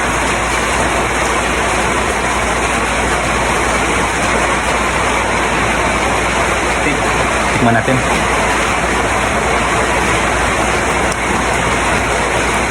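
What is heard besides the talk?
rain falling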